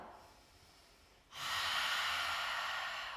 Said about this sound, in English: Take a deep inhale in through the nose. Exhale out through the mouth with a HA sound.